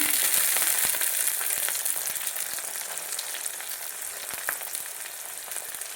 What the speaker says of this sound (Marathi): कांदा चांगला आपल्याला परतून घ्यायचा आहे